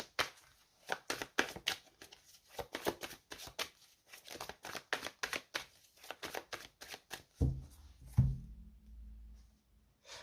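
A deck of tarot cards is shuffled in quick, crisp riffling bursts, up close and quiet, then cut with a couple of soft thumps before the room falls nearly still.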